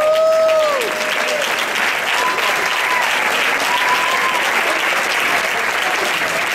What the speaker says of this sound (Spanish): Mario y Melina, Melina y Mario, más fuerte el aplauso.